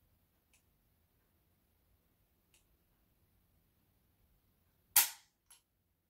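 A Mossberg 500 shotgun trigger is pulled, giving one sharp, loud snap followed by a fainter second click about half a second later, with a few tiny ticks before it in near silence.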